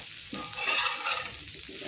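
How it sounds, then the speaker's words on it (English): Meat for homemade samosas sizzles and fries in a pan while being stirred, a soft steady crackle with scraping stir strokes, close and fairly quiet, no talking. "Ensure you keep on stirring and stirring, because if you don't stir even for a minute, you'll find that your meat has stuck on the pan."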